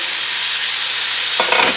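A beef roast sears in a skillet, giving a steady, close, hissing sizzle throughout, with a brief scrape near the end.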